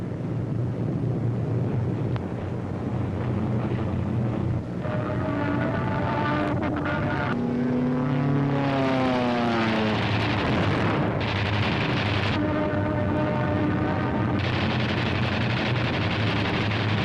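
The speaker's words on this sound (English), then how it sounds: "German fighters attempting to intercept the heavy bomber attack are shot down by P-47s." Propeller engines of WWII fighter aircraft such as P-47s, a loud continuous roar with rising and falling pitch as the planes pass, heard alone without speech.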